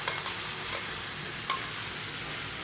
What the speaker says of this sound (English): Now you baste it like a steak.